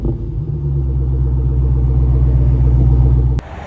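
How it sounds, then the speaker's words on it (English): A Dodge Demon 170 engine idles with a deep, loud, steady rumble after a cold start through the stock exhaust, then cuts off abruptly near the end. "give you just a quick cold start with the stock exhaust"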